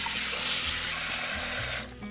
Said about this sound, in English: Once all of the chilies are toasted, you cover them with hot tap water.